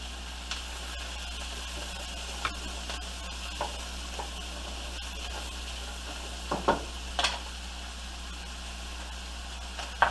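Onions sizzle gently in a pan over low heat alongside garlic, a steady soft frying hiss broken by a few faint clicks and scrapes of stirring, with no voices.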